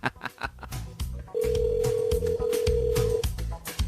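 A telephone rings in on a live radio call-in show: a steady electronic ring tone holds for about two seconds, sitting over background music.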